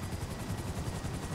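A helicopter in a video game gives off a steady, pulsing rotor chop at close range, loud and unbroken, with no voices over it.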